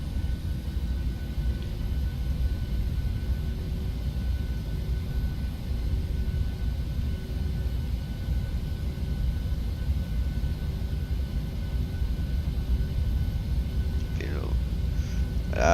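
Engines of a PMDG 737 spooling at full takeoff throttle in a flight simulator, a steady loud broadband roar with low rumble holding throughout, a brief higher whine near the end.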